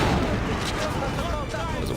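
A cannon shot in Assassin's Creed Revelations lands as a dense, booming burst of noise that rumbles through the whole clip, loud and close.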